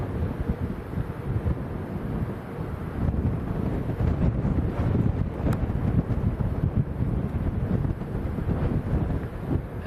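Strong crosswind at Lanzarote airport roaring and buffeting against the microphone, a steady broad rumble with gusty surges throughout, no voices.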